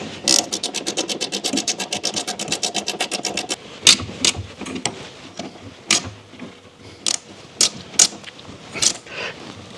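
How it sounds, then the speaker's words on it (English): Ratcheting wrench tightening bolts on a brake master cylinder during a Scout Yukon restoration: a fast run of close, even ratchet clicks for several seconds, then scattered louder individual clicks and clanks. "So I'm just tightening these bolts up with the 9/16 ratcheting wrench."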